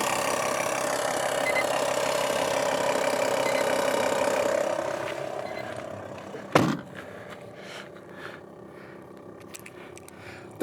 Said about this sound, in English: And then that activates the pump